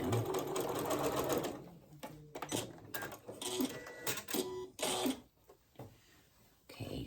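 A sewing machine stitches fabric in fast mechanical bursts, starting with a long run and then stopping and restarting in short clattering spurts with brief quiet gaps, close by.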